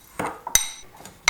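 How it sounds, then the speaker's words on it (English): Spice rub ingredients, including English mustard powder, being mixed and crushed in a bowl: a few scattered clinks and taps of utensil against the bowl, one sharp ringing knock in the middle. "Add all the rub ingredients to a bowl and mix well, crushing any large lumps."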